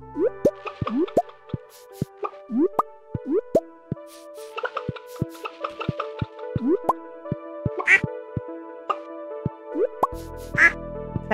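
Ducks quacking in the farming video game Stardew Valley, with repeated short quacks and plopping game sound effects in a sparse, rhythmic pattern over eleven seconds; no voice is heard.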